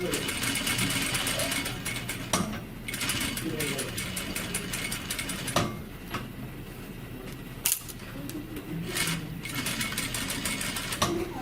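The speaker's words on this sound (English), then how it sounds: "I'll be able to do my back stitch and run down the length of the strip" A sewing machine stitches down a binding strip along a seam allowance for a bound seam finish, a fast steady mechanical whirr with brief pauses and clicks, close and loud, while a person talks over it.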